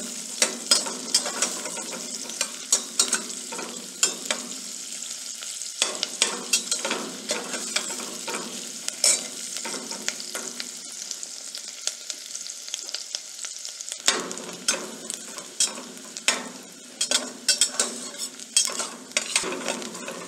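Onions sauteing on low heat in a pan, a steady close sizzle with frequent scraping stir strokes that come in irregular bursts throughout.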